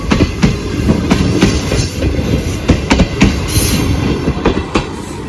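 The Pak Business Express (34 Down) train rolls past near Kot Lakhpat railway station: loud, close rhythmic clickety-clack of wheels over rail joints over a steady rumble of the carriages, with no voices.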